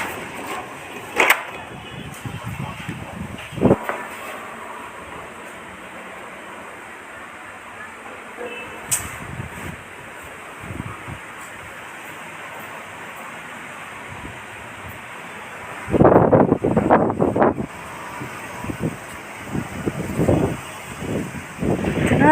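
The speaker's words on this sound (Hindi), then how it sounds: "इतना तेज़ हवा चल रहा है" Gusty wind roars outdoors in uneven bursts, with a strong buffeting surge near the end and scattered rustling between gusts.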